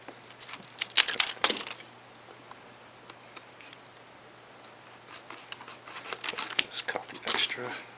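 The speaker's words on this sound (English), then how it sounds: "Nothing beats an old school pair of scissors." Old-school scissors snip through plastic binding in short, crisp clicking cuts, clustered at the start and again toward the end, close and fairly quiet over a faint steady hum.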